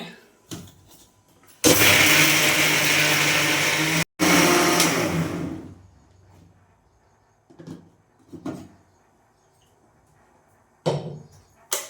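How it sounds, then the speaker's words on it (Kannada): A mixer grinder grinds ingredients for Ugadi festival cooking in a home kitchen. It roars loudly and steadily for about four seconds, cuts out briefly, then runs again before stopping. A few faint knocks follow in the quiet. "ಮೊದಲು ಮಿಕ್ಸಿಲಿ ರುಬ್ಕೊಬಿಡ್ತೀನಿ"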